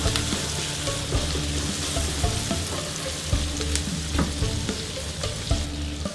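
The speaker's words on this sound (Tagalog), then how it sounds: "This time, we need to cook the tomato talaga." Tomatoes cooking in a pan for seafood pakbet, producing continuous dense sizzling and crackling with scattered pops and stirring clicks, close and even throughout.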